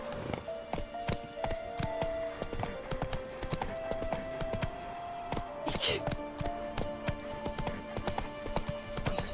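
Roach the horse in The Witcher 3: Wild Hunt trots with steady, close clip-clop hoofbeats, accompanied by tack jingles and a brief whinny-like sound midway.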